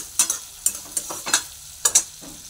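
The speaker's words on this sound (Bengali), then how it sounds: "তো চিংড়ি মাছটা এখানে ভাজতে বসিয়ে দিয়েছি।" Prawns frying in a pan, with several sharp bursts of sizzling and stirring clatter spaced across a quieter crackle underneath, close and fairly loud, no voices.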